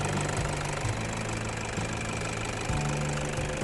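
A 2013 Toyota Fortuner diesel idles close by, its low engine throb steady and rhythmic with faint periodic knocks, heard alone without talk.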